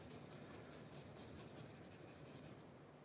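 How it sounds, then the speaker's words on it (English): A hard scrubbing brush rubs pencil graphite into the weave of drawing paper, giving a steady, close, dry scratching hiss that runs throughout with a few brief brighter strokes and no talking. "Now I'm going to use the really hard brush, a really hard scrubbing brush."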